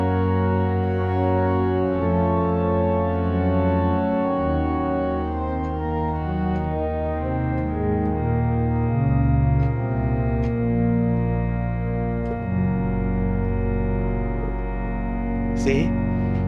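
Processed accordion sample reshaped with sound design effects: sustained, layered drone chords shifting through several harmonies at steady loudness, with echoing reverb tails and a brief bright swish near the end, no talk.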